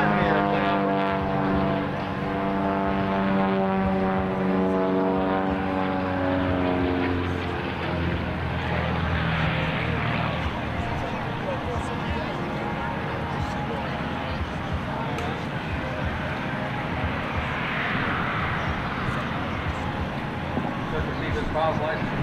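An aerobatic propeller airplane climbs at an airshow, its steady engine drone and sweeping pitch running continuously, loud and close, with an announcer talking over it.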